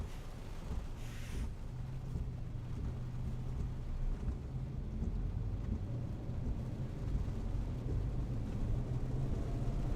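A thunderstorm rolls on with steady rain and a low continuous rumble of thunder, heard from inside a moving vehicle with road noise underneath and no one talking.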